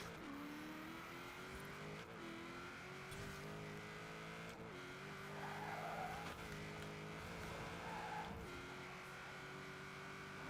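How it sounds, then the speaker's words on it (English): A V8 engine-swapped car of over 1,000 horsepower accelerates hard in Forza Horizon 4. The engine revs climb steadily and drop briefly at each gear shift, with a tire-squeal whine on top. It is loud and continuous, with no talking. "let me just give you a quick glimpse of the acceleration of this thing"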